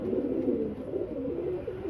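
A slate-grey pigeon at a pigeon sale in Faisalabad coos in a low, continuous rolling call, close and fairly soft, with no talk over it.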